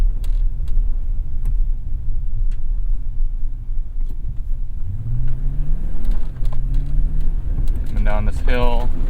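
A Toyota Tundra pickup on Kumho Road Venture AT52 all-terrain tires drives in 2-wheel drive, its engine a steady low rumble with road noise while someone talks over it.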